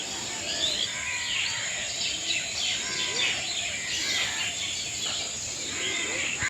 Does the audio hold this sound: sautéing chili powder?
no